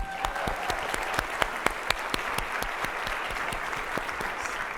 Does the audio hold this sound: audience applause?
yes